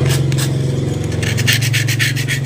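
Sandpaper rubs rapidly back and forth over a surface being smoothed before painting, a loud close rhythmic scratching with steady quick strokes throughout.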